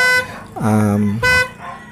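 A loud, close aftermarket dual snail horn on a Kawasaki Fury 125 motorcycle blares in short harmonic honks, the middle one longer with a pitch drop at its start.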